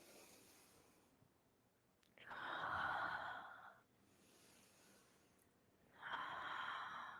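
Slow, deep yoga breaths during a vinyasa power class: a long rushing exhale swells and fades, a softer breath follows, then another strong exhale begins, close and fairly quiet with no talking.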